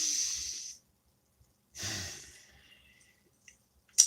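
Two long, airy breaths, each about a second, separated by silence, followed by a short sharp intake at the very end, close and quiet.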